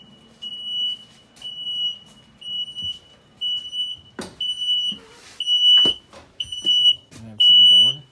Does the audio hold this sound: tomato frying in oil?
no